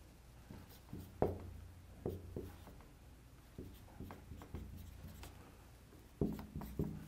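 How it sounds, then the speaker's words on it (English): Marker or chalk writing on a board, a quiet series of short scratchy strokes and taps in irregular bursts, faint and close with no talk. "And I'll write it here for you."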